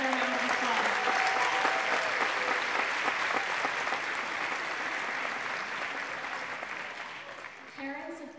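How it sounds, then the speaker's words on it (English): Audience at an elementary school Christmas concert applauds the grade one performers with loud, dense, sustained clapping that fills the hall and tapers slightly toward the end, with a voice briefly audible at the close. "Let's give another round of applause."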